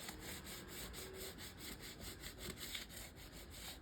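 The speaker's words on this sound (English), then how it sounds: "it does not take a great deal of sanding. I'm merely trying to scuff the surface." Steady rhythmic rubbing of sandpaper scuffing back and forth over a leather surface, faint and continuous with no talk.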